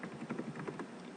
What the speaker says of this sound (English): So right now we're just going to type in Barn Burning by William Faulkner